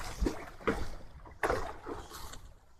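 A small fishing boat on the water in the Sundarbans gives off soft splashes and sloshing in uneven surges, close by, with a sharp knock at the end.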